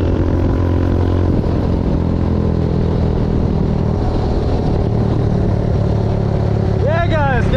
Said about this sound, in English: Let's jump on the bike and continue driving.